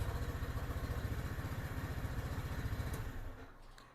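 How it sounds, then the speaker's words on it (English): A 2022 Lifan KPV 150 scooter engine idles with a steady, fast low putter of even pulses, close by and fairly quiet, fading slightly toward the end. "And just let it idle for a little bit."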